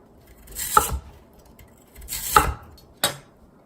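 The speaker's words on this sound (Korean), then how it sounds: "그럼 썰어 보겠습니다." A knife cutting through peeled lotus root on a cutting board: three separate crisp slices, each ending in a firm knock on the board, with quiet pauses in between.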